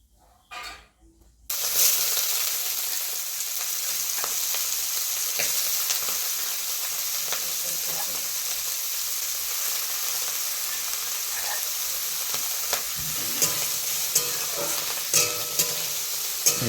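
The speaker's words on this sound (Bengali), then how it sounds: "এবার পাত্রে তেল দিয়ে গুগলিগুলি ভেজে নেওয়া হচ্ছে" Cleaned snails frying in hot oil in a pan, a steady close crackling sizzle that starts abruptly after a brief quiet moment and keeps going with small pops and stirring sounds.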